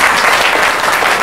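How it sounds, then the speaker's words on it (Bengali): Audience applause at a Bengali music baithaki gathering, steady close clapping from a seated crowd, loud and continuous without speech. "আরেকটা হাততালি।"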